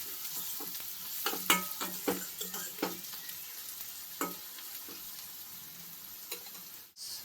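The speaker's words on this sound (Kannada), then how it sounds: "ಕಡಲೆಕಾಯಿ ಬೀಜ ಸೀತ್ಕೊಂಡ್ಬಿಡುತ್ತೆ. ಇವಾಗಲೇ ಚಟಪಟ ಅಂದ್ಬಿಡುತ್ತೆ ಅದು" Peanuts deep frying in hot oil for a traditional tamarind gojju, with sharp crackles and scattered pops bursting over a steady low sizzle, loud and close, with no talking.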